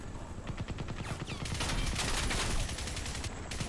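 Automatic gunfire from a weapon in the Crysis video game, a run of quick repeated shots that grows denser in the middle, fairly quiet overall against game background noise.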